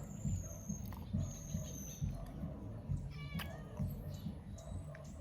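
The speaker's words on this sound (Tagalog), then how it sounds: "Marami akong pusakal guys." Several stray cats meow on a rural farm near durian trees, their high, drawn-out cries repeating at a moderate distance over a steady outdoor background hum and faint rustling.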